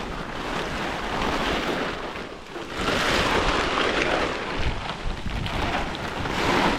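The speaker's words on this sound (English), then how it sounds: "It's a cool, breezy day today." Wind on a cool, breezy day outdoors buffets and rushes across the microphone in a steady, loud roar that swells midway.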